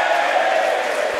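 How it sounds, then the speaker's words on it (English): Crowd applauding at a live International Pro Wrestling event, a dense, steady wash of clapping and crowd noise that holds at an even, fairly loud level through the whole brief stretch. "A round of applause for Dunkerton."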